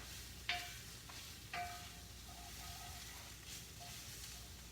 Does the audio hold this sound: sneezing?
no